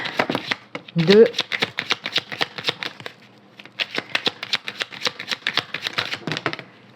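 Tarot cards are shuffled and drawn in quick runs of crisp, snapping flicks that pause briefly midway, while a voice speaks in short bursts over them.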